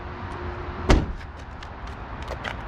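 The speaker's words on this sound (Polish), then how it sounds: "Czy w ogóle drzwi się będą zamykać z tym badziewiem?" Car door of a Subaru Impreza GH slams shut once, a single sharp thud standing out over faint outdoor background noise.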